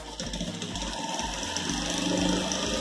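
Sewing machine stitching a fabric strip for a rug made from used clothes, a close, fast, steady mechanical whir and rapid needle chatter that runs without pause.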